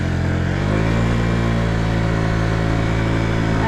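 A car engine steady and close throughout, its note rising briefly as it picks up speed, then holding a smooth, constant drone with no talking.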